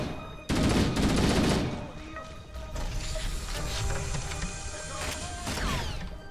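Bursts of weapon fire in Halo CE Anniversary, a loud rattling volley at the start followed by scattered shots and mechanical clatter, with a voice briefly speaking.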